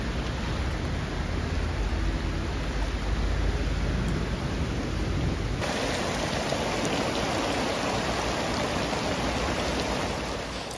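Heavy rain pours steadily on a North Face Wawona 6 tent, a dense, even hiss that holds at the same loud level throughout with no voices.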